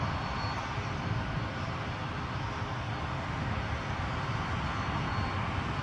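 ATR turboprop aircraft on final approach at Edinburgh airport, a steady, faint, broad engine drone heard from a distance with no talking.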